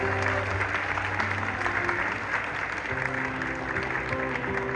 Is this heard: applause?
yes